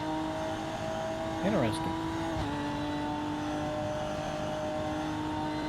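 Race car engine in a racing video game at Road Atlanta, a steady loud drone with a quick rev that rises and falls, with commentators talking over it.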